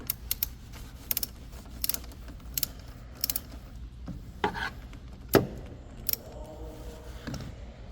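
A ratchet clicks in short, quick bursts while loosening a battery terminal screw on a 2018 Kia Sorento 2.4L GDI, with brief pauses between runs and a few louder metallic knocks.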